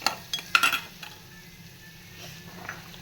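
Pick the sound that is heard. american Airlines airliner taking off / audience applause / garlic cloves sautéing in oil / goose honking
garlic cloves sautéing in oil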